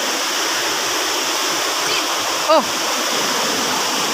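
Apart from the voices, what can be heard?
large stream flowing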